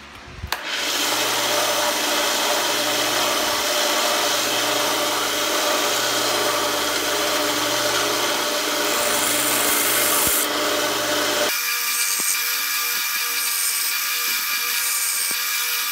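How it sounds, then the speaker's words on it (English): Hacksaw cutting a short piece off a copper pipe fitting: steady, loud, close back-and-forth rasping that runs continuously, changing tone near the end. "I'm having to awkwardly use the hacksaw to cut off about a 1-inch long"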